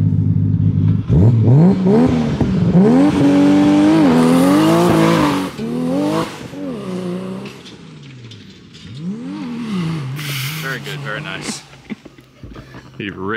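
A Nissan Skyline GTR revs hard through a dirt corner, its engine note rising and falling loudly and up close before fading into the distance, while people talk over it.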